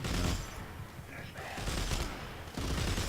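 Enemy gunfire in the video game Dead Space 3 crackles in dense, rapid bursts, with loud volleys at the start and end of a short, busy stretch of combat.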